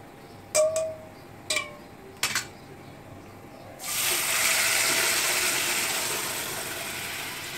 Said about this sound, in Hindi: अब हम इसमें दाल डाल देंगे।